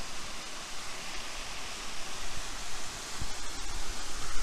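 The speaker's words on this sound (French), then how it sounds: "Petite cascade." A small waterfall on the Pech de Bugarach hiking loop, steady rushing splash filling the air, a constant broad hiss of falling water with no voices.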